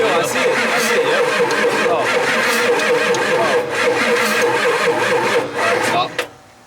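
A Ford F-250 diesel engine that sat for more than ten years cranks hard and churns loudly without stopping for several seconds, then cuts off near the end.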